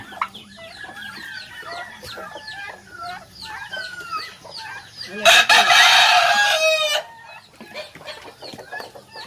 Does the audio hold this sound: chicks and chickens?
yes